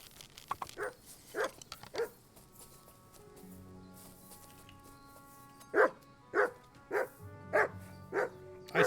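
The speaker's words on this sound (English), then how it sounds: "Please stop barking." A dog barks repeatedly in the Kingdom Come: Deliverance II video game, with a cluster of sharp barks early on, a pause over a low ambient hum, then a steady series of evenly spaced, loud, close barks.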